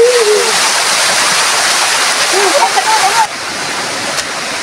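Nitira Falls waterfall, a loud steady rushing roar of falling water filling the scene, close by, with brief voices talking over it.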